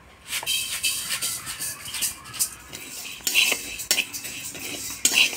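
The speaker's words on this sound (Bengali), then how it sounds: "ডালটা এবার ভাজে নিব।" Black gram dal dry-roasting in a pan, stirred with a utensil that clinks and scrapes against the metal in irregular bursts, the dry lentils rattling and rustling at close range.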